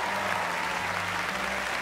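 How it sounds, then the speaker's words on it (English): A brief burst of dense audience applause for David during a stage show, loud and continuous clapping from a full crowd with no voices on top. "Round of applause for David so far."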